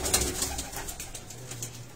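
Rooftop pigeons cooing close by, soft low repeated calls over a light background hiss.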